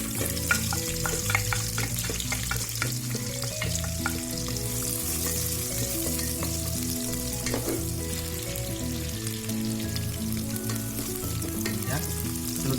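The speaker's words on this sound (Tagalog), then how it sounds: "Igisa na natin yung onion." Onion sautés in hot oil in a pan for Filipino beef caldereta, giving a loud, continuous close sizzle and crackle with stirring scrapes throughout, and no one speaking.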